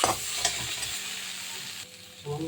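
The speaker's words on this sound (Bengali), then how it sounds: "লঙ্কা বাটা দিয়ে নাড়াচাড়া দেবো" A spoon stirs chili paste into potatoes frying in a pan with cumin paste. The close, continuous sizzle has scraping strokes over it, and the texture shifts briefly near the end.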